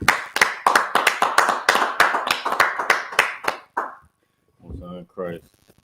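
A small group claps in a quick, fairly even rhythm of sharp, close hand claps that stop abruptly, followed by a short burst of speech.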